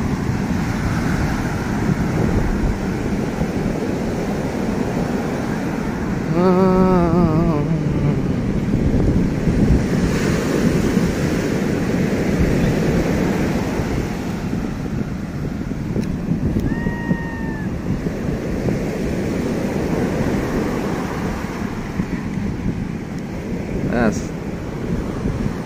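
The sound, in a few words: strong ocean waves and wind on beach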